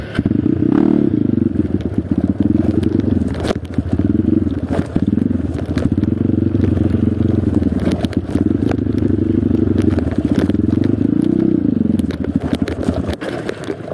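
A motorcycle ridden hard at full throttle along a tourist road in Pulosari, Pemalang, Central Java, its engine roaring loud and steady throughout with wind buffeting and occasional rattles and clatter.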